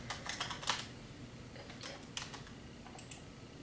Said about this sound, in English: I have to freaking type it out.